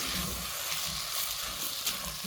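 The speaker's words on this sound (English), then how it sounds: "Add the rice and stir very well for all the mixture to look like it's getting in." Rice being stirred into a sizzling pot of pilau mixture, giving a close, steady frying hiss with soft scraping under it.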